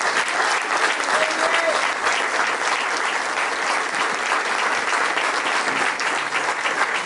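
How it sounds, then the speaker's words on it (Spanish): An audience at the presentation of a political candidate list for Somos Todos in Carlos Paz claps loudly and continuously, a dense, even wash of applause lasting about seven seconds. "Así que otro aplauso para todos ellos."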